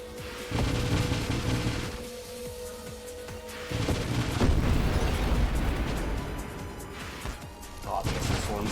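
Missile Swarm explosions from the space shooter Nova Drift, a dense barrage of overlapping booms and pops bursting repeatedly with background game music throughout.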